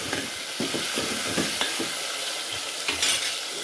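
Spoon stirring eggplant curry base with salt in a pan, scraping and clinking against the metal in uneven strokes over a steady close sizzle.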